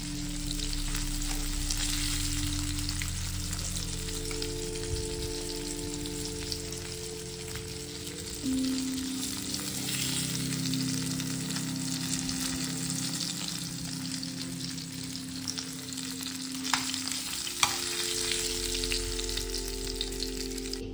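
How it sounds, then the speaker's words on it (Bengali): Onions frying in oil in a pan after fish was fried, giving a steady, close sizzle throughout with occasional stirring and no talk. "তেল সরিয়ে নিয়েছি আর এখানে একটু পেঁয়াজ ভেজে নিচ্ছি"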